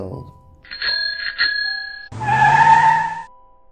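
A bicycle bell rings twice in quick bright dings, followed by a louder, harsher ringing burst with traffic-like noise, close and clear.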